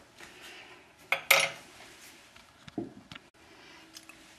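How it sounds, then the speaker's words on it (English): A fork works mashed deviled egg yolk filling, seasoned with salt, Tabasco and mayonnaise, in a dish, giving a few soft scrapes and two sharper clinks against the bowl, close and fairly quiet with no talk. "So just work it, smooth it out with the fork."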